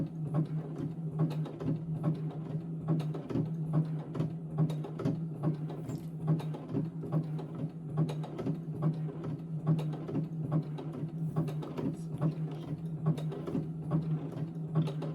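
A domestic sewing machine runs steadily and close up, with a continuous motor hum and a fast, even needle chatter throughout.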